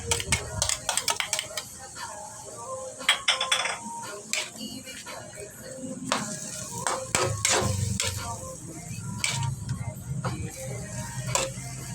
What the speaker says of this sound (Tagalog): Ang pag-sear ay isang sekreto sa pagluluto para mas maging masarap ito.